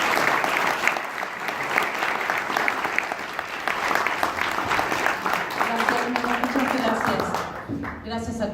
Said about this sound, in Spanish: Insisto, démosle un fuerte aplauso y bienvenida.